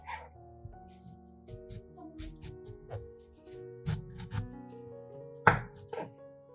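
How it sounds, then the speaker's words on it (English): A sharp knife cuts a watermelon lengthwise through rind and flesh into long strips on a cutting board, giving several soft, irregular chops and thumps, with one louder cut near the end, over quiet background music. "Use a sharp knife to cut lengthwise from top to bottom through both the skin and flesh, creating long strips."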